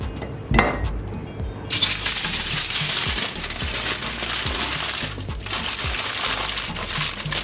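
Aluminium foil crinkling and crunching as it is folded and wrapped around a head of garlic drizzled with olive oil in a home kitchen, a close, continuous rustle with sharper crackles throughout.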